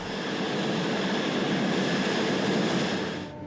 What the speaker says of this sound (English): the only evidence of a train going by is the slight increase in sound above the noise of the fans